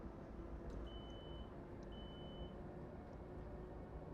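Alarm in a train cab in the video game Train Sim World 5, two short, thin, high beeps heard faintly above the steady rumble of the running train.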